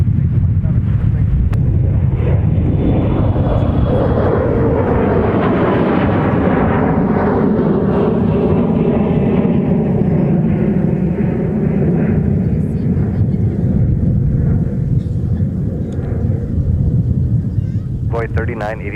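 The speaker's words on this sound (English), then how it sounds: "The Houston Rockets 767 is on the move." A Houston Rockets Boeing 767 taxis at Minneapolis–St. Paul airport, its loud, steady jet engine roar swelling and shifting in pitch across the whole stretch, close and continuous.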